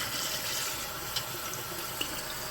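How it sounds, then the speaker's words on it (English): Tap water runs continuously into a bowl as rice is rinsed under the faucet, a steady close hiss with a couple of faint knocks. "I am rinsing the rice."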